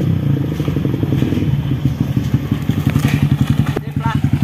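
A Yamaha Vixion motorcycle engine, earlier sputtering under throttle, runs up close in a workshop test with loud, rhythmic thumping firing pulses that quicken toward the end, with a voice briefly heard over it.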